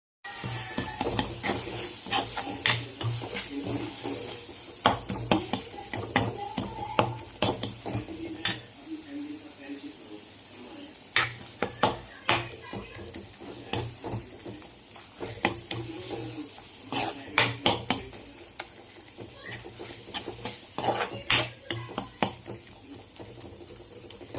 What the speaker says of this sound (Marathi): मटणचं जे सूप निघालं ना ते थोडंसं ॲड करायचं आणि पुन्हा सगळे मसाले हे परतून घ्यायचे